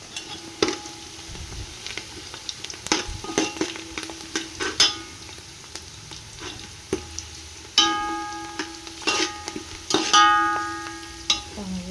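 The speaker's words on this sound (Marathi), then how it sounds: "खरपूस भाजून घ्यायचा कांदा" Onion roasts in oil in a pan, giving a soft sizzle under intermittent clinks and scrapes of a spoon stirring against the metal, close by, with a brief spoken word.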